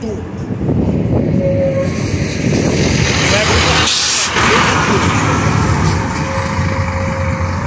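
Rock Express buses for the Rock in Rio 2022 festival roll past one after another, a loud, continuous close-range rumble of engines and road noise with a brief hiss, while someone talks over them.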